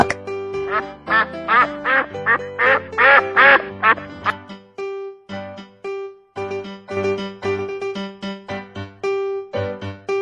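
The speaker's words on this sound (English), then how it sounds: "Duck." A duck quacks loudly in a rapid run of calls early on, followed by light, bouncy instrumental music with sharp plucked notes.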